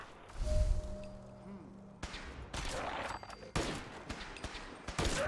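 Gunfire in a Fallout 4 firefight: a dense scatter of sharp shots and rattling bursts, some near and some further off, with overlapping thuds and ambient game noise.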